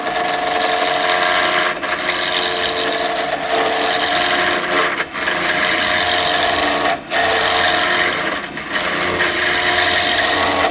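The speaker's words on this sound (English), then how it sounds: "I'm going to use this tool, which is a gouge, which will take the stuff off really fast." A gouge cuts wood spinning on a lathe, a loud continuous rasping scrape with a few brief dips where the tool lifts, heard close and alone.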